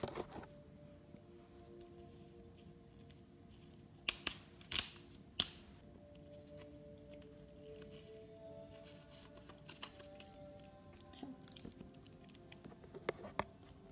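Packaging from a Beautiful Box beauty subscription parcel being handled and opened: sharp snips and crinkles, with three prominent crisp bursts in the middle and lighter rustling and clicks around them, close to the microphone with no talking.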